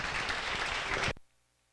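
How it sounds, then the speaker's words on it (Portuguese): Congregation applause in a church at a resurrection celebration, a dense sustained wash of clapping that cuts off abruptly into near silence after about a second. "Vamos dar uma salva de palmas para Jesus"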